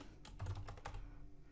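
Quick tapping on a computer keyboard while entering text in a word processor, a short close run of light clicks with no talk.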